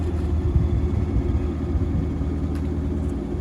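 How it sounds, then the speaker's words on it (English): Chevrolet Corvette V8 with a newly installed exhaust, rumbling steadily at a low idle, close and fairly loud, with no voices over it. "it sounds like a proper V8 now"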